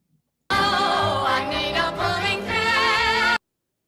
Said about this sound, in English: And that's The Sound of Music.